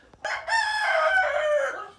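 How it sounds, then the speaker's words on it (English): A rooster crows once, loud and close, a single drawn-out call inside a chicken coop, with faint shuffling before it. "so we're at the chicken coop"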